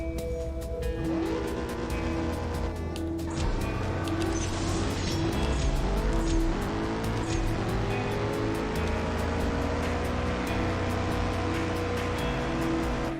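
Bugatti race car in the CSR2 racing game, its engine droning steadily and loudly for the whole stretch, with rising and falling pitch sweeps as it accelerates and shifts, no talking over it.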